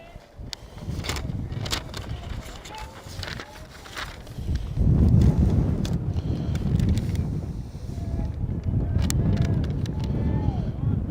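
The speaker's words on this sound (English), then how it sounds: "the wind is very strong" Strong gusts buffet a camera microphone at an outdoor boys' baseball game, producing heavy, uneven low rumbling and flapping that surges in waves throughout, with a voice speaking at times over the noise.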